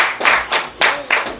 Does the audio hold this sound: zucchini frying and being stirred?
no